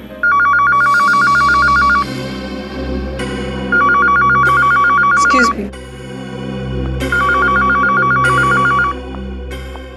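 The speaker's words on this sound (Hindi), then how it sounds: "ये फोन की घंटी बिल्कुल सही टाइम पे बजी" An old-style telephone bell rings loudly in repeated bursts with pauses between; a person briefly speaks during a gap.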